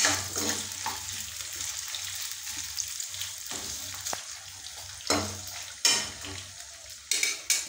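Potatoes fry in hot oil in a pan, giving a steady close sizzle broken by a few sharp bursts and scraping stirs, with no talk.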